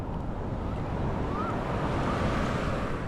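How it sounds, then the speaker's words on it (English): Big storm-driven ocean waves break and surge on a beach at Nha Trang, a loud continuous roar of churning surf and wind with no pause across the stretch. "And another big wave."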